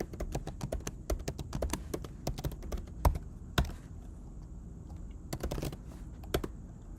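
Rapid, irregular keystrokes tapping on a computer keyboard while entering a password, close and fairly quiet, with brief pauses between bursts of clicks.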